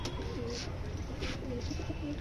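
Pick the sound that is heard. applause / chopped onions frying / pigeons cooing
pigeons cooing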